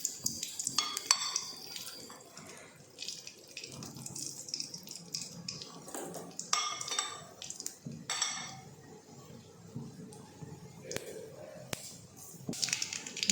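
Mustard seeds and urad dal crackle and spit in hot oil left over from frying appalam, with irregular bursts of popping and sizzling alongside light kitchen clatter.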